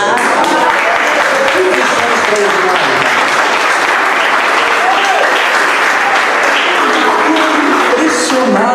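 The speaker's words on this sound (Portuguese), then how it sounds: "Aplaudir o Senhor por isso." Sustained, dense applause from a large church congregation, steady and loud throughout, with a bit of cheering mixed in.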